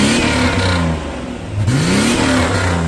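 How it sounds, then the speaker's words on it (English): A 1989 Jeep Comanche Eliminator race truck engine revs hard and close, with a roaring throttle that dips briefly near the middle and then surges again. "You got it to backfire."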